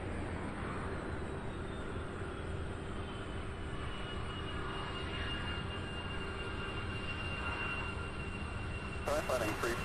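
A jet airliner lands at Louisville International Airport, its broad engine roar holding steady at a moderate distance for the whole stretch, with a faint thin whine riding above it.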